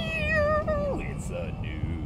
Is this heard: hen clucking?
no